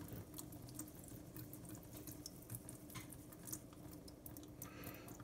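Water trickling and draining out of an alfalfa sprout growing container, a faint, steady wet rustle with small scattered drips and clicks, no voices.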